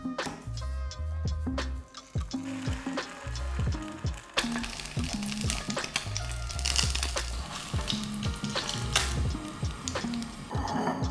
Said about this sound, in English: We're going to fry an egg in the pan